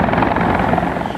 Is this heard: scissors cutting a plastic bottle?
no